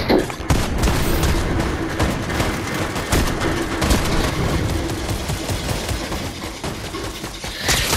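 Gunfire in the Fortnite video game, dense and loud rapid bursts of shots and booms filling the whole stretch, with brief voices mixed in.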